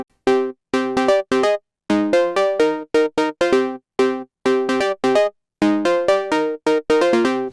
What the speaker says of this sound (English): let's make a fire Phonk Cowbell from scratch in the free Wavetable synth Vital